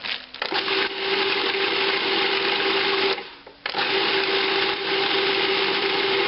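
Frozen spinach is chopped in a food processor, a loud steady motor whir running for several seconds with one brief pause before restarting.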